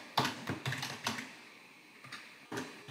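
Someone types Python code on a computer keyboard, producing a few close, irregular clusters of clacking keystrokes with short pauses between them, with no talk.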